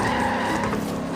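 A Cadillac Escalade AWD skids in Forza Horizon 3, giving a loud, continuous tire-scrubbing screech over a steady engine drone for about a second.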